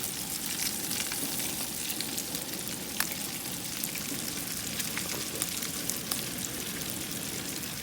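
Maple bacon sizzles and fries steadily on a grill, a dense continuous crackle with scattered small pops throughout, close and even in level with no talking.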